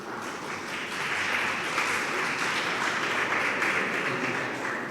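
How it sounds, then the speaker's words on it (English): An audience of medical students and house officers applauds in a university lecture hall. The clapping starts, swells, and holds as a steady, dense wash of many hands at moderate volume. "Yes, you can clap."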